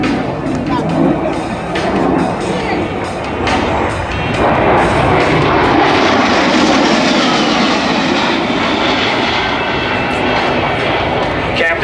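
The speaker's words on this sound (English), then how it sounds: "Captain Brown is repositioning the A-10 for a slow roll along the show line" An A-10 Thunderbolt jet roars loud and steady during an airport airshow pass, its engine noise swelling and rushing continuously under announcer-style talk and crowd noise.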